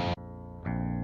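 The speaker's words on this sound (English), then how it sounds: "So now if I hit 1 here" A clean electric guitar chord rings out through a Blackstar St James amp with a Live Logic pedal, cut briefly, then a second chord strums in and sustains with a shimmering, slightly chorused tone.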